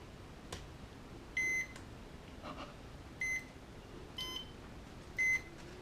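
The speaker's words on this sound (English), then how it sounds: "now let's test it again with the buzzer in" Freshly soldered buzzer in a repaired chess timer sounding a few short, sharp electronic beeps spaced about a second or two apart, clear over a quiet room.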